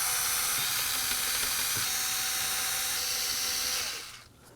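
Plastic Phillips clips being removed from the bumper cover of a 2016-2020 Kia Sorento 2.4L, with a steady close whirring power-tool drone and faint ratcheting ticks. The sound cuts off just before the end.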